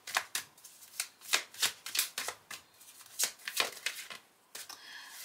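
Tarot cards are shuffled close by in a quiet room, making a string of crisp riffling and sliding bursts in an uneven rhythm with no talking over them.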